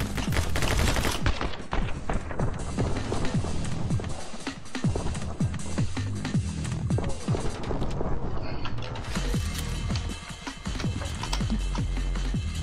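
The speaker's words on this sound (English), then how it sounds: "Oh shit, they're still shooting at me." Frantic gunfire from the My Friend Pedro video game, dense rapid shots and impacts layered with clattering action effects and music, continuing loud throughout.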